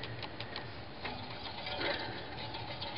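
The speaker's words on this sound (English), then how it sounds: "that sound, that's obviously the pad rubbing against the rotor" A faint, steady scraping hum with a light repeating tick as a BB7 disc brake pad rubs a spinning bicycle disc rotor, heard alone and close.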